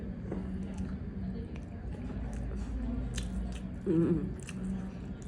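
Soft squishy chewing and small crunches from someone eating rice with parippu beans usli at Saravanaa Bhavan in Korea, close and quiet, with a louder bite near the end over faint background murmur.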